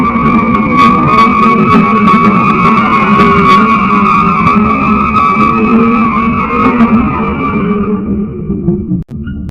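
Sonification of data from the Helix Nebula, a dying star shedding its outer layers: a sustained, whooshing roar with steady high tones and crackling texture, loud throughout before thinning out at the end.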